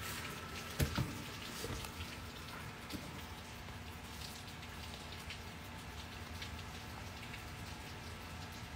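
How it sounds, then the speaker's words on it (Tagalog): Heavy rain pours steadily, a dense, even hiss of drops on surfaces with a couple of brief knocks early on, fairly faint and without speech. "malakas ang ulan"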